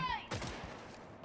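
Gunfire in Cyberpunk Phantom Liberty, a sharp burst of rapid shots followed by a dense crackling volley, loud and close.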